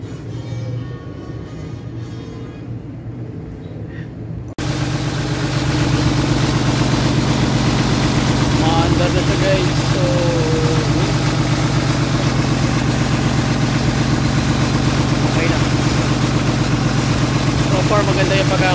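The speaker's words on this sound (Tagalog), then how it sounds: "Pakinggan natin yung makina." A rebuilt Isuzu 6BG1 diesel engine idles steadily, a low, even rumble that swells louder after a few quieter seconds and holds a continuous throb throughout.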